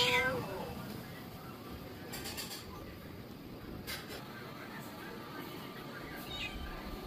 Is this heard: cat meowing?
yes